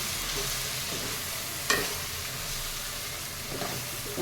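Turmeric being stirred into brinjal masala curry in a pan, function-style: a steady close sizzle of frying with soft spoon scrapes and one sharper clink partway through, no voices.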